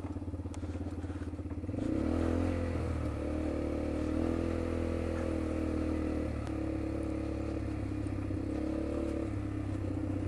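A motorcycle engine drones and rumbles steadily nearby for several seconds on Mount Mayon, its pitch shifting slightly as it runs, with no talking.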